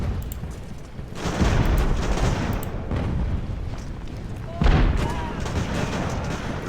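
Artillery in Ultimate Admiral: Age of Sail during the Battle of Bunker Hill, firing heavy booms with rumbling battle noise around them, one strong blast near the end, under some talk.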